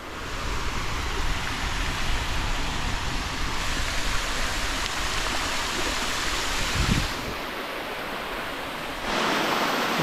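Waterfall and stream pouring over a series of rock pools on an island hillside near the ocean, a steady, loud, broadband rush of water that continues alone, without talk.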